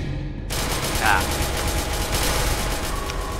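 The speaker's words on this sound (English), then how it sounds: "Are they shooting, Larry?" Gunfire in the video game SCP: Secret Laboratory, rapid automatic shots that burst in loud and close and keep rattling without a break, with a brief voice underneath.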